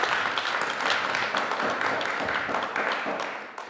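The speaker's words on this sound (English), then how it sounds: "Round of applause for them," Audience applause at a round table panel discussion, a broad steady wash of clapping from many hands that holds for several seconds and tapers off toward the end.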